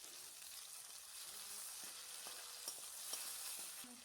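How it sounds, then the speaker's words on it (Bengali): Chopped medium tomatoes frying in hot oil, a steady soft sizzle with a few light stirring knocks, fairly faint and without voices. "দুটো মাঝারি সাইজের টমেটোকে কুচিয়ে এইভাবে গরম তেলেই দিয়ে দিলাম"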